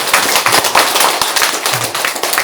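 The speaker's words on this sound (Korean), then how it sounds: "그럼 우리 모두 주의사 주지심께 감사의 큰 박수, 응원의 큰 박수를 쳐주십시오." Audience applause at a Buddhist monk's dharma talk in a Korean temple: dense, steady clapping from many hands, loud and continuous throughout.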